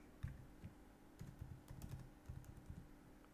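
Quiet keystrokes on a computer keyboard, a close, soft series of irregular clicks in short bursts with brief pauses in between.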